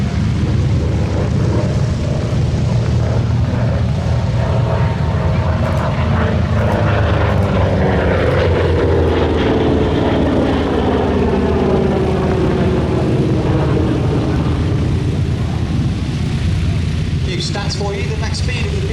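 A P-47 warbird's piston engine roars through a flying display at Sywell 2024, loud and continuous, the pitch sweeping as the aircraft passes and pulls into a barrel roll, with commentary over it.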